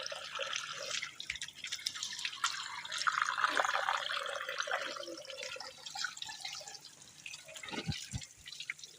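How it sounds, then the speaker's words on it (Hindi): Water splashing and dripping as a face is washed during wudu, with a running tap and scattered drips near a sink, fairly soft and continuous, ending in a few distinct drops. "अब चेहरा धोएं"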